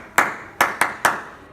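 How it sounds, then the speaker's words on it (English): Hands clap a short rhythm in a classroom: four sharp, fairly close claps, one then a quick cluster of three, with no talking. "do a clapping rhythm, and then the students will do it in response"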